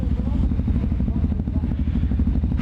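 Motorcycle engine with twin exhaust cans running steadily nearby at a rainy meet, a deep, even throbbing rumble throughout, with a short hiss at the end.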